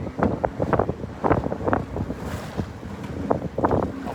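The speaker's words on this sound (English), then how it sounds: "I'm watching a speedboat come ripping across here and making sure he doesn't hit me." A racing speedboat rips across open water nearby, its engine noise rising and falling in choppy bursts and mixed with wind buffeting and slapping waves.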